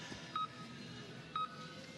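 A biathlon start gate gives a countdown of two short electronic beeps, about one second apart. They sound faintly over steady outdoor background noise.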